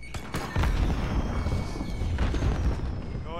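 Fireworks bursting in a video game, a loud cluster of booming blasts and crackling thumps arriving in quick succession, dense and sustained with rumbling low end throughout.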